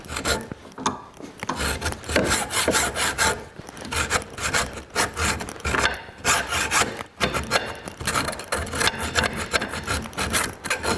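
A hand saw rasps back and forth cutting a slot down into a part from a 1960 BSA Bantam D7 motorcycle, the close, loud rhythmic strokes continuing steadily with brief pauses.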